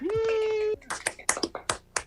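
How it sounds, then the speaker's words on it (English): A long sung or held vocal note, then a handful of sharp, irregular claps and bursts of cheering from a small comedy show audience nearby. "Give me a round of applause."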